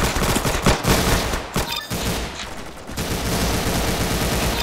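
Rapid gunfire from a gun in the Roblox game Arsenal, dense bursts of shots running loud and steady through the whole stretch, close and continuous with no talking.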